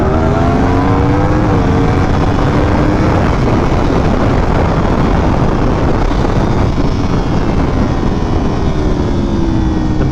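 Yamaha R1 sport motorcycle on a ride, engine droning loudly and continuously with rising and falling pitch sweeps as it accelerates, heavy wind rush over the microphone throughout.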